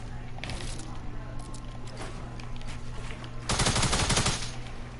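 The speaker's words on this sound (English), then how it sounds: "You gonna shoot a guy down that's on his first day of claw?" Gunfire from a shooter video game rattles steadily throughout, with a louder, denser automatic burst near the end, heard over a background game hum.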